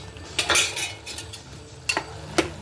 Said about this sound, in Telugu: ఒకసారి కూర తిప్పుకుందాం